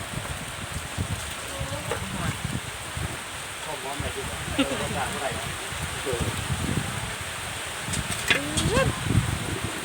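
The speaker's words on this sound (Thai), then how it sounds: "ฝนสาดฝนสาด" Steady rain, driven by strong wind, hisses and splashes across the whole clip, with voices talking intermittently over the downpour.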